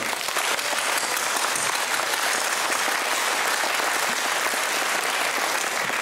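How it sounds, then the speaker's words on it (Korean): A lecture audience applauds on request at the start of a pastors' talk, a dense steady clapping that fills the room at an even level throughout, loud and without voices. "강사가 피를 받을 수 있도록 힘찬 박수 한번"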